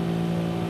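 A 2021 Mercedes-AMG GT Black Series engine in Forza Horizon 5 drones loudly and steadily at high speed down a straight, a dense, continuous roar with no break.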